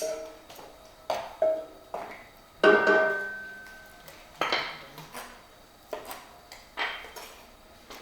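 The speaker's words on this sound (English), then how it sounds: "We can move our garlic around a little bit in the pan." Garlic is pushed around a pan with a utensil, producing a series of distinct metallic clinks and scrapes at an irregular pace, fairly close and otherwise quiet.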